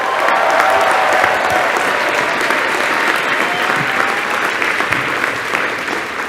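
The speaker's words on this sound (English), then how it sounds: "So let's give them a round of applause." A large commencement crowd applauds for parents and families at a graduation ceremony, a loud, sustained wash of clapping lasting about six seconds and easing slightly toward the end.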